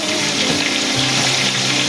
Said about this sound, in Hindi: थोड़ा सा पानी डालकर मसाले को अच्छी तरह भून देंगे